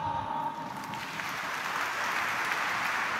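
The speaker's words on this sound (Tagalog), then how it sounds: "Pumalakpak." An audience at an evening Advent recollection claps together in a steady, dense patter that fills the room at close range and holds evenly throughout.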